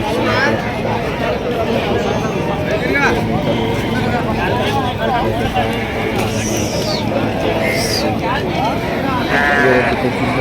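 Many sheep bleat at the Sunday Mallepalli sheep market in Hyderabad, Telangana, their loud, repeated cries overlapping amid a constant crowd babble, with people talking close by throughout.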